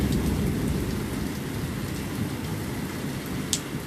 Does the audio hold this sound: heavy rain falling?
yes